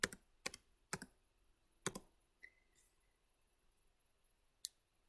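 Typing on a computer keyboard while saving a file, heard as several sharp isolated key clicks in quick bursts with quiet pauses between, close and clean in a silent room.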